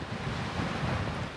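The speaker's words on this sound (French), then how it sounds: "Le vent se lève enfin un petit peu." Wind roaring steadily over open sea aboard a sailing boat crossing from Gibraltar to the Canary Islands, with broadband gusty rush and low water wash filling the whole moment, no voices.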